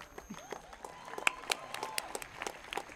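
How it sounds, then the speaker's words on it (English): Audience clapping at a design school convocation ceremony, with scattered, moderately loud claps and brief bursts against a quiet room background. "We request you all to clap a little bit harder."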